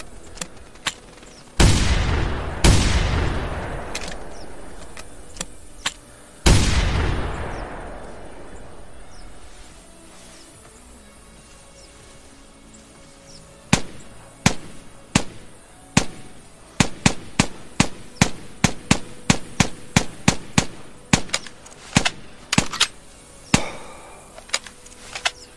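Shotgun blasts at geese in The Hunter video game: two loud close booms early on, then after a quiet stretch a rapid irregular volley of many sharp shots, with no talking.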